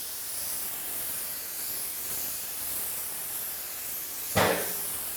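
Airless paint sprayer spraying a coating at slightly higher pressure, a steady broad hiss running throughout with a brief louder burst near the end.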